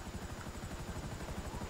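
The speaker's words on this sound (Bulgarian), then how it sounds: "Асен е дошъл с неговия хеликоптер." Helicopter in GTA 5 Online: a steady, rapid rotor chop with a constant turbine whine, loud and close, unbroken throughout.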